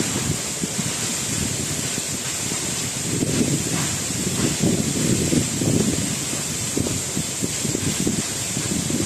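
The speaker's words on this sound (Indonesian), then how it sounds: "Coban atau air terjun" Steady broadband roar of rushing water, loud and continuous, from close by at Coban Rondo waterfall in Pujon, Malang, East Java.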